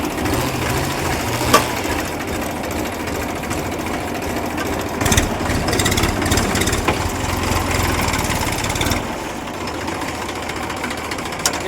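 A tractor engine idles with a steady, loud, rapid mechanical chugging and rattling vibration, running continuously close by, with slight surges partway through and a lighter tone near the end.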